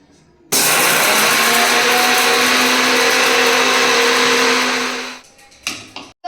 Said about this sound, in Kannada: ಇವಾಗ ಸ್ವಲ್ಪ ಮಿಕ್ಸಿ ಮಾಡ್ಕೊಳ್ಳೋಣ ಬನ್ನಿ